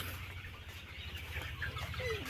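Sonali super hybrid chickens in a poultry shed give low, repeated clucks and murmurs over a dense steady hum of the flock, fairly close and unbroken by talk.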